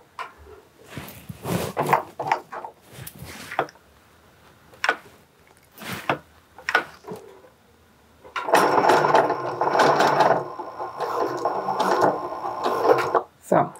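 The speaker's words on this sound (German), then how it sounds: "Also eine Tour muss ich immer doppelt nähen, doppelt gemoppelt hält besser." A sewing machine runs in a steady continuous burst while stitching a homemade backpack, preceded by short clicks and handling noises with some talk in between.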